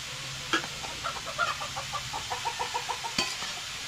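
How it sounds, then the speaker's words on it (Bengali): Cauliflower with salt and turmeric is stirred in a frying pan, a light sizzle under a rapid series of rhythmic scraping clinks from a spoon against the pan. "এটা আবার মিশিয়ে নেব।"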